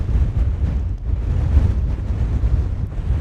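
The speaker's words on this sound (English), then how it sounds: "It's seriously gusty now." Strong wind roars and thumps against the microphone in uneven gusts at Mow Cop hilltop, a constant low rumble with no voices.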